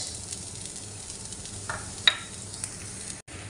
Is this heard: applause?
no